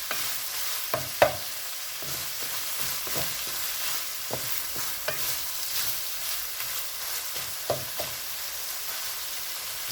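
Food sizzling in hot oil in a home kitchen, a steady soft crackle with occasional sharp pops and utensil scrapes scattered throughout, fairly quiet and close, with no voices.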